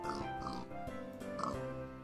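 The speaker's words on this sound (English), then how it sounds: "let's put the pigs in here" Short, fairly close grunting oinks from pigs in a video game, placed in a nativity-scene build, repeating a few times over a couple of seconds.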